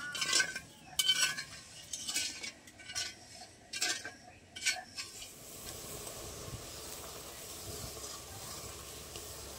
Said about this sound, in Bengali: একসাথে ভালো করে চিনিটা গলিয়ে নেবো, এরকম নেড়ে নেড়ে